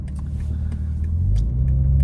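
A BMW G80 M3 fitted with MSS suspension drives along, its engine giving a steady low rumble that swells slightly toward the end, heard from close inside the car.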